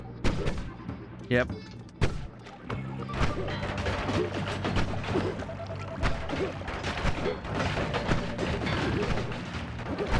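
Enemy tank firing in the roguelike game Noita, a dense barrage of booming shots and crashes repeating over about ten seconds, loud and continuous, with someone talking over the din.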